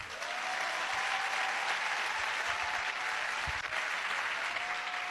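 A church congregation applauding, a dense, even wash of many hands clapping that holds steady from start to finish, with a faint sustained tone beneath.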